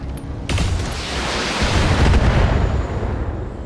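A loud, rumbling ammunition explosion in the BattleTech video game erupts after a short lead-in, then rolls on as a sustained boom that swells, peaks and slowly fades without dying out.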